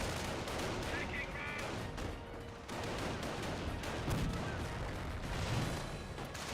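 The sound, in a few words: mortar and gunfire in Company of Heroes video game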